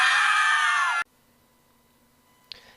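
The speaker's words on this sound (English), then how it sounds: "Scream." A loud, sustained high scream lasting about a second and cutting off abruptly, followed by near silence and a brief faint blip.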